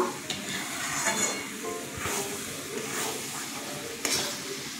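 Raw mango pieces, salted and turmeric-soaked overnight then squeezed dry, frying in hot oil with a steady broad sizzle, punctuated by a few scraping stirs and light utensil taps close by.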